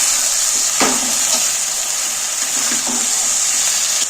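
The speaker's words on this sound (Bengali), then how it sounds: "চালটাকে একটু নেড়ে ফেলে নিচ্ছি" Raw rice being stirred in a pot for chicken khichdi, a steady hiss of hot cooking running throughout with a few soft scraping strokes near the start and toward the end.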